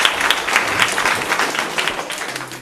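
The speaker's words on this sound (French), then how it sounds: "On l'applaudit, mesdames et messieurs" A theatre audience breaks into dense, continuous applause at a June 2010 stage show, loud and close, with many overlapping hands forming a steady wash of clapping.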